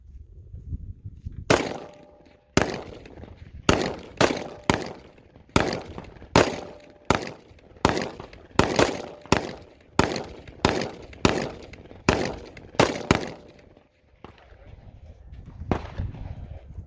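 Gunshots from a rifle being test-fired outdoors, about sixteen sharp loud reports in a steady rhythm roughly every second, each with a short ringing tail, then a pause and one more shot.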